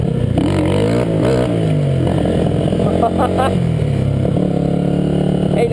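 A Honda Titan motorcycle pulls away hard in first gear, the engine revving up loud and close with a rising, clattering tone, while a rider's voice talks over it.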